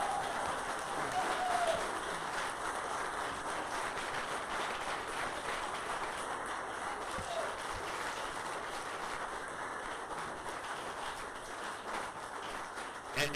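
Applause from a live audience at a breakfast café event in Santa Barbara, a steady, fairly even clatter of clapping hands filling the room for over thirteen seconds, with faint voices mixed in.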